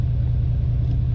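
A deleted and freshly tuned Powerstroke diesel truck engine idles with a steady, loud low rumble, continuous and close throughout.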